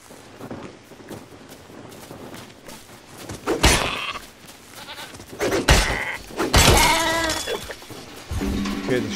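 A sheep in the Lego Fortnite video game gives several loud, wavering bleats from close by, mixed with game thuds and someone talking.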